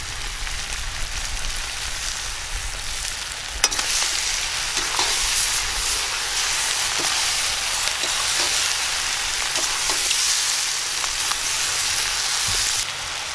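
Chicken legs frying in a pan as bell pepper goes in, a steady loud sizzle with occasional clicks and stirring scrapes, no voices over it.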